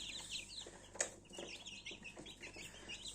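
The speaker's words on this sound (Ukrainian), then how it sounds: "чудова порода курей, як лакенфельдер" Lakenfelder chickens cluck and chirp in short, irregular bursts, fairly close, with a brief sharp call standing out near the start.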